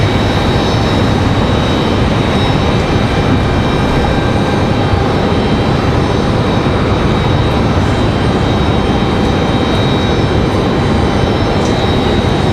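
An Airbus A319 jet airliner sits near the end of the runway at Raleigh Durham airport, its engines giving off a loud, steady, unbroken roar.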